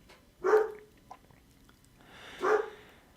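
A dog gives two separate barks about two seconds apart, fairly close and moderately loud against a quiet background.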